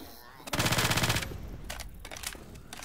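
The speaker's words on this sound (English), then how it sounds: "Shoot the armored zombies in the back!" Rapid automatic gunfire bursts out in the Left 4 Dead 2 zombie shooter, a loud rattling volley followed by scattered shots and game noise.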